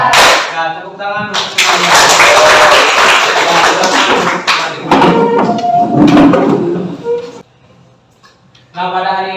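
Clapping from students in a classroom, loud bursts of hands mixed with voices and children's chatter, dropping briefly to near quiet before picking up again.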